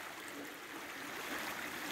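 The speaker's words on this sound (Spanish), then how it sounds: "y el sonido del agua" A small stream runs past a willow tree in winter with a soft, steady, hissing wash of flowing water, faint and unbroken, with no voices.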